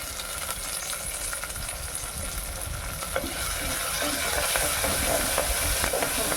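Curry leaves sizzling in hot oil with tomato pieces in a pan, stirred steadily with a spoon, a bright crackling fry that grows a little louder, close and without talk.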